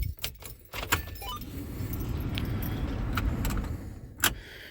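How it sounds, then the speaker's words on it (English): A ring of keys jangles and rattles near a Ford 7.3 Powerstroke diesel truck, with bright metallic clinks at the start and a sharp clink near the end over a low steady rumble, and no voices. "We'll throw some keys in and see what happens"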